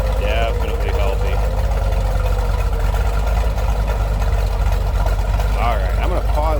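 A 1973 Chevrolet Corvette coupe with a 454 engine idles steadily with a cam lope, a continuous close rumble under a voice talking over it.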